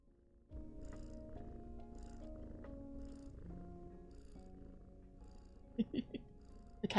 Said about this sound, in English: The cat purring will make you eepy too.